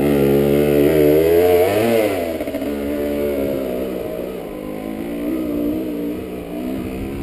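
A motocross motorcycle engine revs loudly up close, rising and dipping in pitch before settling into a steady, buzzy drone at about half throttle.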